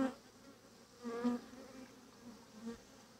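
A swarm of bees being collected into a hat outdoors, buzzing faintly and unevenly with a brief louder swell as insects fly close, otherwise a thin distant hum.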